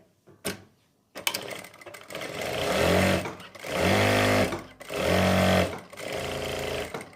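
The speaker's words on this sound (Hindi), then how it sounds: "मशीन चलानी है और इस तरीके से कट करना है" Sewing machine stitching pleats on a kurti, starting with a clack and then running in three or four sustained bursts of loud, close motor hum and rapid needle rattle, with brief slowdowns between them and no voices.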